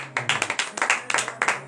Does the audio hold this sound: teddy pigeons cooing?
no